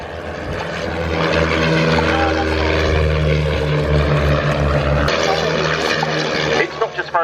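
A de Havilland Chipmunk propeller trainer flies past at an air show at RAF Cosford, its loud, steady engine drone building then holding close before thinning out, with crowd and commentary voices underneath.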